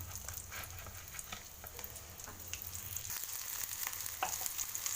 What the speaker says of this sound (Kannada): ಎಣ್ಣೆ ಬಿಸಿ ಹಾಕ್ತಿರ್ಬೇಕಾದ್ರೆ ನೆಕ್ಸ್ಟ್ ಇವಾಗ ಸ್ವಲ್ಪ ಈರುಳ್ಳಿ ಹಾಕೋಬೇಕು